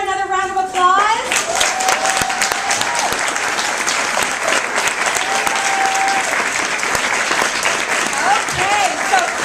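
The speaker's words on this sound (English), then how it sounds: "Stand up again for another round of applause." Guests in a room stand for another round of applause at a director's debut event, loud sustained clapping from a full crowd right after a voice cuts off, with faint tones ringing through the noise.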